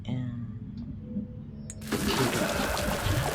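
Water pours onto a plant in the horror game Baby in Yellow, a sudden rushing splash that starts partway through and runs to the end, following a quieter stretch with a faint game tone.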